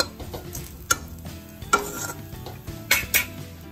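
Dry mango powder being stirred into besan-coated okra in a pan with the gas turned off, a spoon scraping and clinking against the pan in several sharp knocks amid soft scraping, close and clear with no voices.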